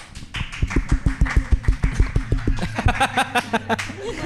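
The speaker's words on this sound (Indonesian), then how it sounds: "Sound efek tepuk tangan dong." A fast run of tapping or clapping beats plays as a studio applause effect during a talk show about emoceeing, with nearby talk and background noise rising toward the end.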